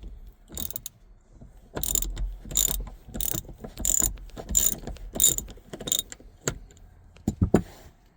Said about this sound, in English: I'm gonna use Torx bit number 45 and I'm gonna unscrew this bolt